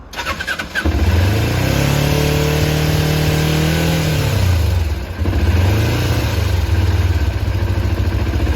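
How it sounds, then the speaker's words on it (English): A 2001 Kawasaki ZZR250 with a DIY pod air filter catches with a short cranking burst, climbs into a rising rev, then settles into a steady, loud near idle with a small dip and recovery. "This thing runs better than ever."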